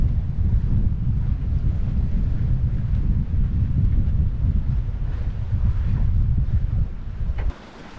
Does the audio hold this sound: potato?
no